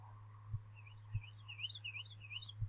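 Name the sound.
birds chirping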